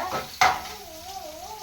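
Onions and tomatoes being sautéed in a pan for an egg podimas, a sharp clank of utensil on pan followed by soft stirring and a low sizzle, close and fairly quiet.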